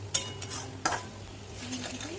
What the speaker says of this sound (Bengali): জল ঢেলে একটুখানি নাড়াতে থাকতে হবে